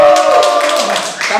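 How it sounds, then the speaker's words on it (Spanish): Staff clap for a gymnastics demonstration at a virtual university sports welcome festival, a brief burst of applause over a steady tonal backdrop of music. "¡Staff, aplauso!"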